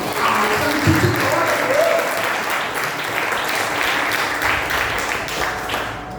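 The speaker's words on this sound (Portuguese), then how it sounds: "Você pode aplaudir o Senhor por isso, não?" Congregation applause fills a church, steady massed clapping from many people at moderate distance, with voices and shouts mixed in beneath it throughout.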